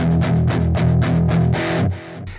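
Electric guitar chugging muted power chords through a Spark 40 amp on a high-gain preset, a loud, steady run of rhythmic distorted palm-muted hits that opens into a sustained chord before cutting off, no talking.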